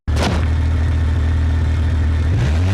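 A 3.5 liter V6 engine in an LS3500 wagon from BeamNG.drive starts with a sharp burst and settles into a steady, loud, close idle, with a slight rev rising near the end.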